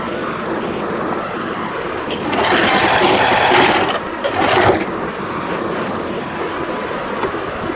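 Sewing machine stitching pleated dhoti cloth for a deity's outfit, a steady close whirring hum that swells louder in the middle as the stitching speeds up, with no talk.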